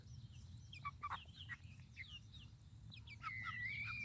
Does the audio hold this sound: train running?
no